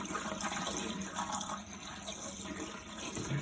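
Antifreeze pours and gurgles down the plumbing traps of an RV being winterized, a steady close liquid rush lasting a few seconds with no voices.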